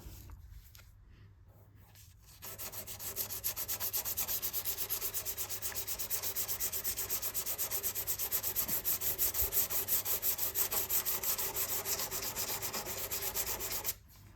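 Steady abrasive rasping of a file worked over rusted metal on a Mazda MX-5 NC (Mk3) Miata body during rust repair, continuous, close and fairly loud for about twelve seconds after a quiet start.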